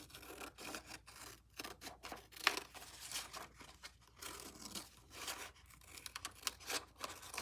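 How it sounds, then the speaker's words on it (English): Scissors snip through paper to trim it even with a card, producing a series of close, crisp cutting and rustling sounds in irregular bursts, with no talking. "I'm just going to cut it even with the card now."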